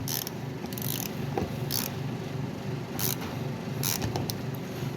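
A hand ratchet clicking in short, irregular bursts during a brake caliper rebuild on a 2018 Ford F150 with an electronic parking brake, heard close up over a steady mechanical background hum.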